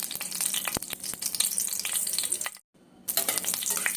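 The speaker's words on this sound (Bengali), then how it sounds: "ফোড়ন আর লঙ্কা একটুখানি হালকা ভেজে নিচ্ছি।" Mustard oil sizzles and crackles loudly with five-spice seeds and two slit green chilies frying in a pan, a steady close hiss that cuts out briefly midway and then resumes.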